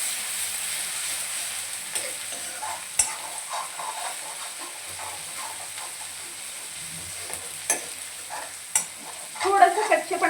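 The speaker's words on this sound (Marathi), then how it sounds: "आता तेलामध्ये आपण हा मसाला चांगला परतून घ्यायचा आहे." Ground masala stirring and frying in hot oil in a pan for mushi masala, a steady soft sizzle with scraping stir strokes and a few sharper clinks near the end.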